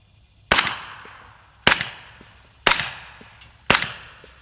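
Four evenly spaced suppressed shots come from a compact AB Suppressors F4 firing subsonic ammunition outdoors. Each is a sharp, muffled crack with a short decaying tail, about one second apart.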